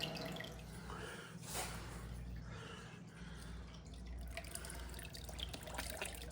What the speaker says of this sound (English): Notice how the water from the filter is constantly pushing downward over the black screen.